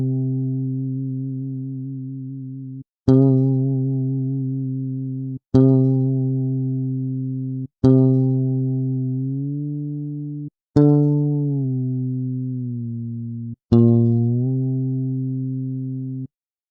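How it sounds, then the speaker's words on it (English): A synth bass played from an OYAYO MIDI keyboard controller, six sustained notes each struck and slowly fading, with pitch bend sliding the tone and modulation adding wobble, loud and clean with no talking. "Here's the effects the modulation strip and pitch bend strip have on the bass sound I used"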